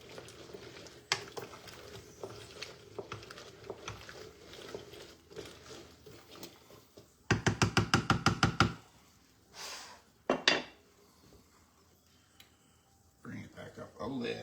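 A spoon stirs fresh cranberry sauce in a pot, with soft scraping and clunks throughout and a quick, loud run of rhythmic knocks against the pot partway through, then a few heavier bumps.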